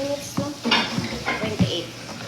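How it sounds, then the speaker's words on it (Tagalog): Ground beef sautés with onion and garlic in a pan, with a soft sizzle under a series of irregular spatula scrapes and pan clanks, close and moderately loud. "Igigisa natin yung ground beef. With sibuyas, bawang."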